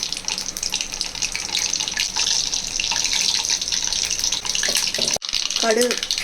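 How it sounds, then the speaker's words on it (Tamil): Mustard seeds and urad dal spluttering in hot oil in a kadai, a dense steady crackling hiss held close throughout, with a brief break near the end. "கடுகு பொரியட்டும்"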